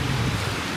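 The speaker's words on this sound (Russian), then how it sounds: "Дождь пока легкий" Light rain falls in a Malaysian city near a metro station, a steady soft hiss of drops that continues evenly through the short stretch with no voices.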